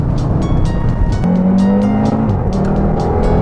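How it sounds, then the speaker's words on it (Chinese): An Audi TT RS turbocharged five-cylinder engine on the Dapeng Bay racing circuit, rising in pitch as it accelerates hard, then the note drops back, loud and close, with brief sharp crackles over the steady drone. "这具五缸的引擎它整个运作品质真的超级厉害的"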